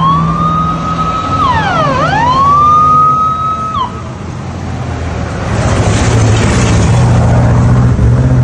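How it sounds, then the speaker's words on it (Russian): Fire engines and police cars arrive with sirens at a blaze involving burning trucks in Kirov. A loud wailing siren sweeps up and down close by, then gives way to rushing road traffic noise. "Одна за одной к месту возгорания стали подъезжать пожарные машины, патрульные авто полиции и медики."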